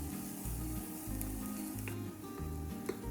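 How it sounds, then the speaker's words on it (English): Onions sautéing in hot oil in a pan, a steady close sizzle and crackle with light stirring clinks, continuous for a few seconds with no talking. "Sauté for 3 to 5 minutes, stirring occasionally until the onions become soft and translucent."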